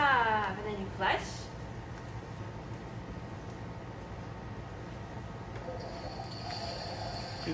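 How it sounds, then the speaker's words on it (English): A small children's potty is flushed: a short burst of rushing water and a brief bright splash, then a faint, steady trickle of refilling water at close range. "And then you flush."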